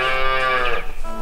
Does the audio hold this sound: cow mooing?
yes